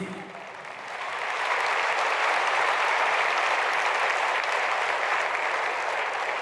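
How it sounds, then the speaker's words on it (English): A large audience applauds at the WUF13 closing ceremony in Baku, a dense, sustained clapping that swells in the first second and holds loud and even in a big hall. "A round of applause, please."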